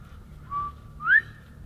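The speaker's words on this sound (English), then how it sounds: "There's another bird going off back there." A wild bird in a forest gives two short whistled calls, the second rising and louder, sounding at a moderate distance over a low background rumble.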